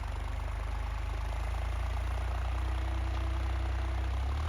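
A New Holland 3630 Super tractor engine runs steadily nearby, a deep, even diesel thrum with a rhythmic low knock and no voices over it.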